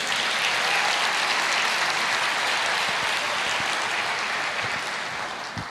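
A church congregation applauds during a sermon on Psalm 23, a dense, steady wash of clapping filling the whole stretch at close range, easing slightly toward the end.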